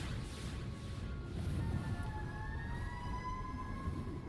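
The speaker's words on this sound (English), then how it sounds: "I just heard a siren in real life and I thought it was in the game." A distant real-world siren wails with rising and falling tones over a steady low rumble of background noise, lasting throughout, while Metal Gear Solid 2 plays.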